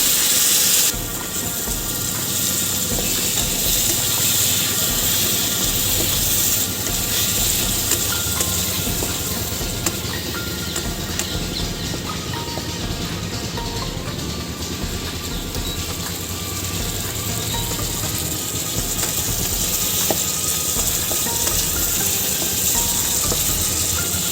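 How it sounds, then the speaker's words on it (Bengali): Potatoes fry to a reddish brown in oil as spice paste goes into the pan, cooking outdoors on a rooftop on a winter morning; a steady, close sizzle and hiss runs throughout with no break. "আলু লাল লাল করে ভাজা হয়ে গেছে, এবার যে মশলাটা করে রেখে দিয়েছিলাম সেই মশলাটা দিয়ে দেবো।"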